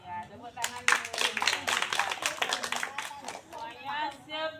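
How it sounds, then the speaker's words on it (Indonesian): Children in a floor gymnastics lesson clap their hands in a quick burst of scattered, overlapping claps, fairly faint, with a teacher's voice heard at the start and end. "Iya, tepuk tangan dulu."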